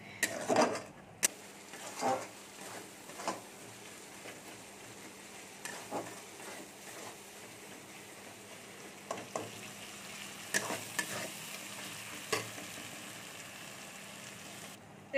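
Spice masala for ghugni with chopped coconut, loosened with a little water, is stirred in a pan with a soft steady sizzle. Scraping strokes of a spoon come at irregular intervals. There is no talk.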